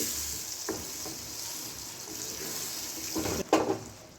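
Masala sizzling gently in a pan over very low gas, with soft hiss throughout, a few scraping stirs, and a louder clatter of the spoon near the end.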